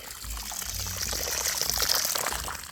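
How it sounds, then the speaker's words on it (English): Water poured onto the soil around a newly planted avocado seedling outdoors, a steady broadband splashing pour lasting about three seconds, close and moderately loud, with no talking. "So the next step is pour some water."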